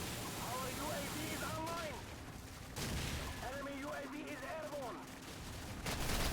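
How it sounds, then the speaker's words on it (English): Call of Duty 4 multiplayer gunfire crackles in quick bursts from across the map, faint and distant, with voices talking over parts of it. "See some guy shooting his gun from across the map"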